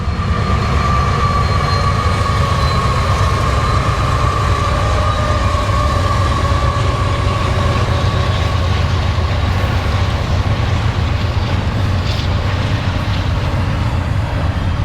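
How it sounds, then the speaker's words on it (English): A long freight train rolls past Bombay Beach in California's desert continuously, with a heavy low rumble, clattering wheels and faint metallic squeals that persist throughout. "They have crazy long trains passing many times per day."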